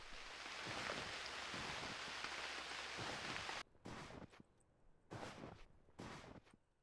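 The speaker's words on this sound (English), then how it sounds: "It's raining still." Steady hiss of rain falling in the survival game Unreal World, a dense wash for several seconds that then breaks into short bursts separated by near silence.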